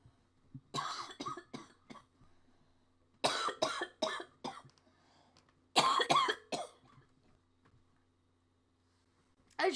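Someone coughs in repeated bursts, three clusters of several harsh coughs each with quiet gaps between, close to the microphone, over faint zombie-mode game audio from Call of Duty Black Ops 3.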